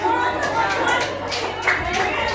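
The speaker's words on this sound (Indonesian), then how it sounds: "Tepuk tangan" A classroom group claps hands together in a brief burst of applause, mixed with students' chatter and talking close by.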